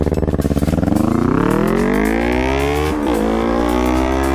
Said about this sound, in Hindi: तो देख लो आप कितनी लाउड है 300